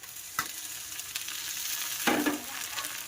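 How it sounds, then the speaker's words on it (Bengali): Tomato and small whole garlic cloves hit a pan of browned onions for a mutton curry, giving a steady close sizzle with a couple of sharp stirring scrapes and splashes. "তো এটা এখন একটু ভেজে নেবো।"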